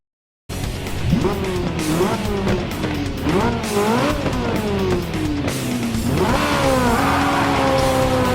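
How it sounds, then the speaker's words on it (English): A Ferrari 458 lapping a test track in Gran Turismo Sport roars loudly and continuously, with repeated rising revs broken by quick gear shifts and bursts of tire squeal. "to take the Ferrari 458 for a spin"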